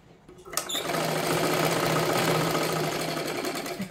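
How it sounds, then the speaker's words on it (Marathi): A sewing machine runs steadily while stitching a double seam on a 40-size katori blouse, starting after a short click and whirring continuously and close up for about three seconds. "आता ह्याच्यावरती परत एक डबल शिलाई घ्या."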